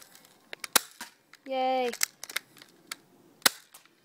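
Crosman Pulse M74DP toy gun fired on single-shot mode, giving a few sharp, separate cracks spread across the moment, with a brief cheering voice and a short whirring tone between shots.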